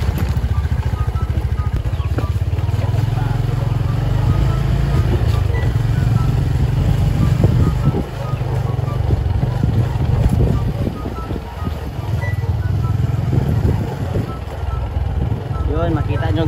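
Motorcycle riding along a muddy farm road after rain, its engine a steady close drone throughout, with wind and road noise over it.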